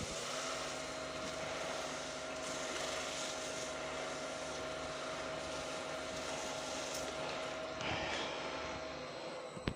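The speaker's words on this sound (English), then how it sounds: "Now I'll just burnish the body." A wood lathe spins a turned wooden snowman body while it is burnished, giving a steady whirring drone with a constant tone and a soft rubbing hiss throughout, briefly louder near the end.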